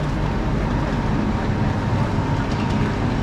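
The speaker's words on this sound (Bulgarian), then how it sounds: "Мега якия влак." Eurostar high-speed train at King's Cross station in London, a steady loud rumble with broadband noise throughout, no distinct pulses, close and continuous.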